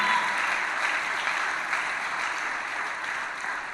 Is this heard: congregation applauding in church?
yes